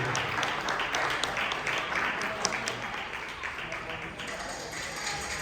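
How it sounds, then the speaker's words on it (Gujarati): Applause from a gathered community society crowd welcoming a new member, a dense, steady patter of many hands clapping throughout at moderate level with a few sharper claps. "પ્લીઝ તાળીઓથી એક વખત એમનું આપણા સમાજમાં સ્વાગત કરવામાં આવે"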